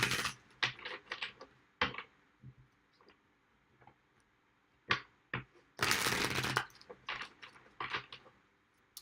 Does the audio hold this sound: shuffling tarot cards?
yes